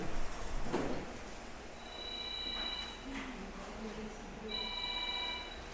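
A cell phone rings in short electronic trills twice during a church sermon, faint and distant under the ambient room noise while a pastor preaches in Spanish.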